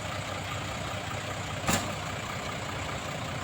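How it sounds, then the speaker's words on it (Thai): An Isuzu 210 six-wheel dump truck runs its engine at a steady idle, a constant rumbling drone with one brief sharp burst partway through. "เสียงเครื่องดังเพาะเลยครับดังนิ่มเลย"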